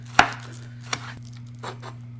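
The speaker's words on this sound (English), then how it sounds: "I'm going to take green onion and just cut off those tops, and then I'm just going to slice these up into little chunks" A knife slices green onion into small pieces on a cutting board, giving three sharp, separate chops spaced unevenly over a steady low electrical hum, with no talking.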